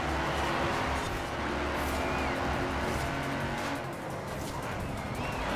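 A Mercedes-Benz AMG Hammer Coupe race car in online racing in Forza Horizon 4, its engine roaring loudly and steadily with tire squeal mixed in, no talk over it.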